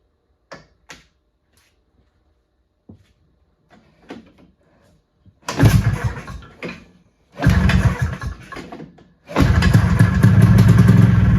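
A Ski-Doo Citation snowmobile engine is pulled over with a few faint clicks, then fires in loud sputtering bursts that catch and finally settle into a continuous rough running roar close by.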